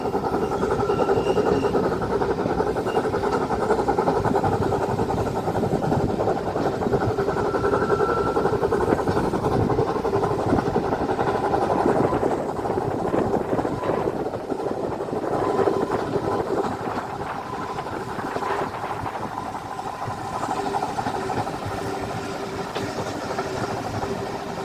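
Heritage train ride on the Dean Forest Railway with Uskmouth No.1 and Judy: a steady, loud rumble of rolling carriages and engine running continuously throughout, with a slight dip midway.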